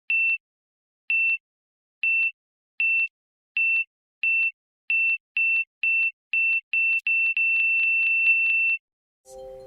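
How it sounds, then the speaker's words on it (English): Smoke alarm sounding a series of short high beeps, evenly spaced and then speeding up into a fast string before stopping, loud and alone with no talk. "Test the smoke alarms every month and change the batteries if they aren't working"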